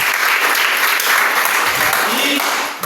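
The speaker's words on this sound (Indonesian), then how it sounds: "Oke, tepuk tangan" A classroom of students claps loudly and steadily for nearly three seconds, dense and close, tapering off at the very end.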